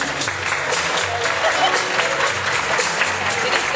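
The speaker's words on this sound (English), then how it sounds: "Let's hear it for Judy" Audience applause rises for a contestant stepping up at a local talent event in Texas, a steady wash of clapping hands filling the room at fairly close range with no voices on top.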